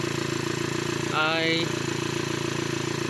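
A car engine runs noisily at a steady idle, shaking the engine, with a loss of power and weak air conditioning, an even mechanical drone heard close up while someone speaks briefly over it.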